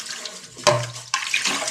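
Water splashing from a tap into a container or sink, coming in two short bursts with a pause between, fairly close and moderately quiet, with no talking.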